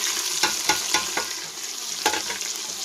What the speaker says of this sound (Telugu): దీంట్లోకి కట్ చేసి పెట్టుకున్న ఆనియన్ ముక్కలు అయితే వేసేసుకుందాం.